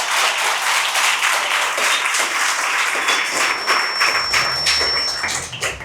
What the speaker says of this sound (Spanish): Dale un fuerte aplauso al Espíritu Santo.